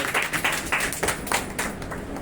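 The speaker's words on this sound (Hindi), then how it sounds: "इतनी कम तालियां आपके जिम के मार रहे हैं।" Scattered applause from an audience at an award ceremony for gym champions, held at an ashram, a few loose, uneven claps pattering close by for a couple of seconds without any speech.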